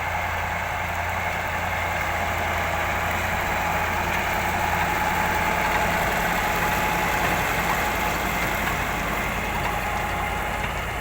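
A T-150 wheeled tractor pulls a disc plough shallowly through stubble, its engine a loud, steady, close drone with a knocking undertone that never lets up, and no talking.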